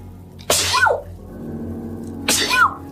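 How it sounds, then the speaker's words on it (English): Two loud, sharp sneezes from a woman, close to the listener, about two seconds apart, with a faint room hum underneath. "I'm sneezing so much lately."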